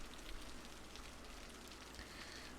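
Rain falling in the city-building game Cities: Skylines, a soft, steady, fairly faint patter of drops that continues evenly throughout with no talk.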